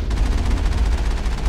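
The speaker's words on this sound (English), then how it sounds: "these rockets that are flying towards me" Rockets streak toward the player in the video game Mass Effect, a loud, dense roar of rapid pulsing blasts with heavy low rumble, continuous for about a second and a half.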